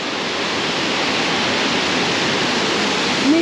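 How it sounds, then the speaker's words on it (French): A loud, constant rush of falling water, a dense roaring hiss with no breaks, close and steady throughout. "On va juste filmer les cascades."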